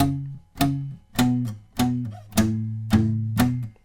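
Electric or acoustic guitar riff, seven sharply plucked notes in a steady rhythm, each ringing briefly before the next, played alone and up close.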